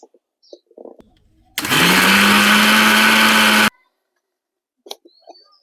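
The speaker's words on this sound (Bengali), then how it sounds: "এবারে আবার সবকিছু একসাথে মিক্সিং জারে ঘুরিয়ে নেব।" A mixer grinder jar blends curd, water and salt into a paste, a loud motor whine starting abruptly and running steadily for about two seconds before cutting off, with small clinks and handling noises before and after.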